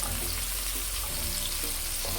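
Onions fry in a pan for fried rice, a loud, dense continuous sizzle with faint tonal background sounds and no talk.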